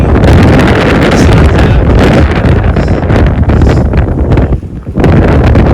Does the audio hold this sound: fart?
no